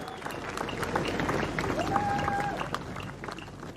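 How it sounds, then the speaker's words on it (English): An audience at a World Surf League ceremony at Bells Beach applauds steadily but faintly, a soft wash of clapping with a brief whistle midway. "Give yourself a round of applause again"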